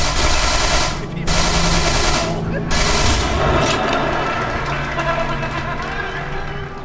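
Rapid sustained SMG gunfire in the Manhunt 2 video game, dense loud bursts rattling almost continuously with two short breaks, layered over game sound.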